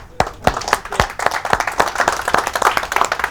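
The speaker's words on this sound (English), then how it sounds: "So give yourselves a round of applause." Restaurant staff at The Ivy clap for themselves, a small group's hand claps ringing out sharply in an uneven burst that builds into steady, close applause.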